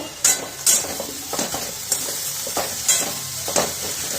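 A grated coconut and jaggery filling cooks in a pan with a close sizzle, broken by repeated scraping strokes of a spoon at a steady stirring rhythm.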